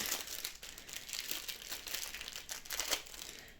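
A package of finger-protection plasters with little panda prints being torn open, giving soft, close plastic crinkling and rustling in irregular bursts at low volume.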